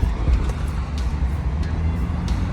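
A lifted Jeep Grand Cherokee WJ driving with a wheel bearing or axle shaft noise, heard as a steady, loud low rumbling drone from inside the moving vehicle, continuous throughout.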